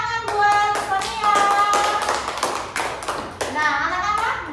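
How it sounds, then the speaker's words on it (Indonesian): Schoolchildren in a classroom clap in a loud, lively round of applause lasting several seconds, with young voices and a teacher's voice heard over and between the claps. "tepuk tangan buat Sonia."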